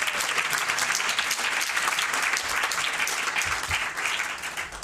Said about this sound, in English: Let's give the congressman another round of applause.